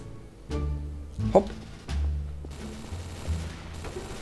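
Bursts of gunfire in Garry's Mod, sharp cracks and short automatic volleys spread across the clip, fairly close, with no talking.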